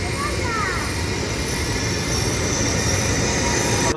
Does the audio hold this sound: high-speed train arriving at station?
yes